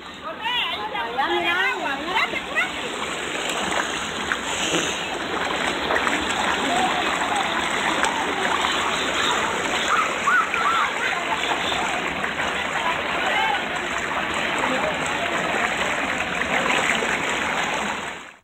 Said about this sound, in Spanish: El oleaje llegaba a los 2 metros de altura.